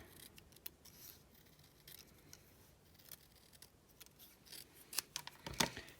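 Scissors snip through cardstock for a shark fun-fold card, giving quiet, close crisp cuts in an uneven series, with a few sharper snips near the end.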